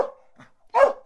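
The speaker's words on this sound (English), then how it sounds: "Training you to growl and bark at that dude was time well spent." A dog gives a short low growling whine and then one sharp, close bark, with brief quiet in between.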